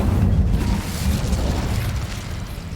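An Incendio fire spell is cast in Hogwarts Legacy: a steady, loud whooshing roar of flame with a low, booming rumble that holds for a few seconds and slowly eases off.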